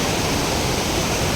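Mountain water rushes steadily downhill toward a dam near Valparai, a dense, continuous close roar of flowing stream with no voices.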